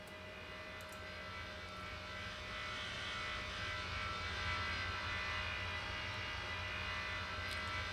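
An airliner descending to land in the video game Tower Simulator 3, at Velana airport in the Maldives: a steady engine drone with a faint whine that swells slightly midway, heard alone.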